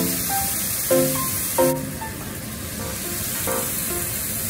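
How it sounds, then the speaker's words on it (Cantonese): Korean beef short ribs (kalbi) sprinkled with sesame pan-frying in a dry pan without oil, a continuous hissing sizzle with a few faint tonal notes drifting over it. "再煎多一次，不過今次唔落油"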